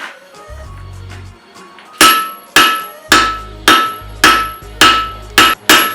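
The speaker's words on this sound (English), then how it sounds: "I'm using a fullering tool going along the length of the bar, and I'm going to try and smash in as much width as I can" A hammer drives a fullering tool along a 1 inch square steel bar while forging a Viking axe: seven loud, ringing metallic strikes land about half a second apart, each decaying quickly, with a low hum between blows.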